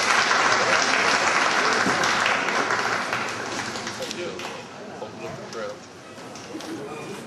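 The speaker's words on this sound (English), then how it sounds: "Starting to clap." A crowd claps and cheers at a high school state basketball championship celebration, loud at first and then thinning slightly over several seconds as it continues.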